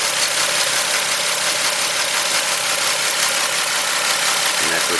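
Rebuilt ViAir air compressor, mounted behind a fan and feeding a 2.5 gallon air tank, runs with a loud, steady buzzing hum and rattly vibration throughout.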